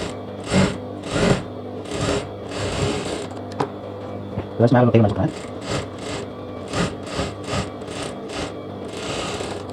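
A sewing machine stitching a join on a lehenga blouse runs in short, repeated bursts, with a rougher scraping stretch in the middle and a voice speaking between the runs.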